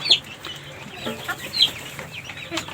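Chickens in a colony coop give short, sharp clucks and squawks at irregular intervals, close by, over a faint background of farm noise.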